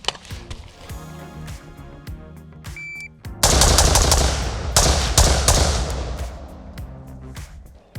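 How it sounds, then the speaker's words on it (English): Rapid rifle shots crack out in a timed drill on targets, a few spaced shots then a fast, loud string of fire with echoing report, no voices over it. "I'm gonna do 5 rounds in the 6-inch circle, and then I'm gonna slow it down and do 3 rounds into the triangle."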